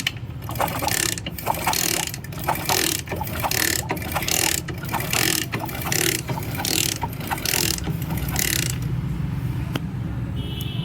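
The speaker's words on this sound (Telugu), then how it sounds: "పెట్రోల్ పెట్టి అయితే క్లీన్ చేసిన కిక్ కొట్టి చూస్తున్నా" A motorcycle cleaned out with petrol is kicked over and over, each kick a rattling, ratchet-like mechanical stroke in a steady rhythm, loud and close, with no engine catching.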